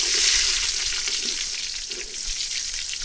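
Onions dropped into hot oil at an outdoor cooking gathering, a loud, continuous hiss of frying that stays steady and close throughout.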